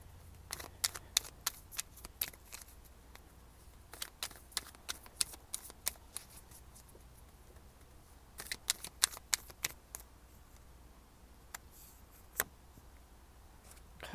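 Tarot cards being shuffled: a run of crisp, quick riffles and snaps in uneven bursts, quiet and close, with short pauses between bursts and no talking.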